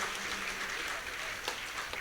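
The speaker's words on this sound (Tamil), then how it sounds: "மிகவும் சிறந்த ஒரு கைத்தட்டலை வழங்குங்கள்" Applause from a congregation at a feast day concelebrated church mass, a soft, dense patter of clapping hands in a large space, fairly faint and steady.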